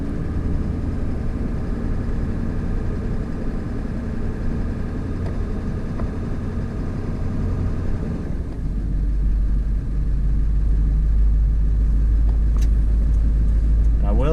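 A Ford F250 pickup with the 7.3 Powerstroke engine drives along, its steady rumbling diesel drone close and continuous, growing heavier and lower in the final seconds.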